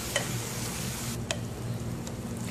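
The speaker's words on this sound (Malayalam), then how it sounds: "ഇനി തക്കാളി നന്നായി ഒന്ന് വഴറ്റിയെടുക്കാം" Tomatoes sauté in a pan for a roasted-coconut chicken curry, producing a continuous close sizzle with a few light taps and scrapes of stirring.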